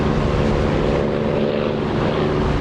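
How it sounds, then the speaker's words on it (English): A propeller aircraft engine drones steadily and loudly with its canopy open, heard from the cockpit of a flight simulator game, a dense unbroken roar with no other sounds over it. "I love the sound of this engine with the canopy open"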